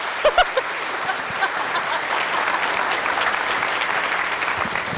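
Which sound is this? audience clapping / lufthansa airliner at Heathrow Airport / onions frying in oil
audience clapping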